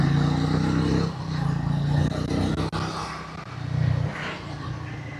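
A Triumph Speed T4 motorcycle accelerates hard on a test ride, its engine note rising and falling through gear changes under steady wind rush, loud and close throughout.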